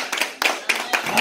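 A church congregation at a Sunday worship service claps to acclaim the word of God, four loud sharp bursts of many hands in a quick, fairly even rhythm, with voices mixed in.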